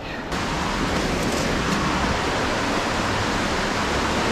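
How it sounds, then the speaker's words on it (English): Fast-running river water rushes under a bridge, a loud, dense, unbroken roar that swells in just after the start and continues evenly. "The water is running really fast through here."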